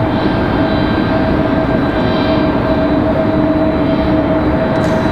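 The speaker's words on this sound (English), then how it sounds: "it's JetBlue A220 making their way across in front of Terminal 2" A JetBlue Airbus A220 taxiing past Terminal 2 at Raleigh-Durham International Airport, giving a loud, steady jet-engine roar and whine that holds constant throughout with no pauses; no talking.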